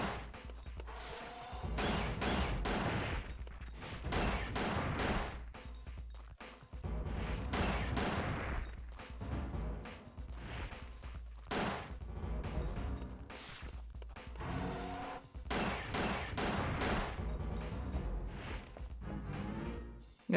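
Rapid weapon fire in Dino Crisis 2, a fast run of sharp, punchy shots in bursts, with blasts and impact thuds and no talk.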